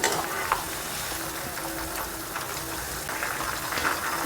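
Chicken pieces for restaurant-style chilli chicken fry in hot oil over a medium flame, giving a steady, dense sizzle with faint stirring and spatter throughout, close and moderately loud, with no talking.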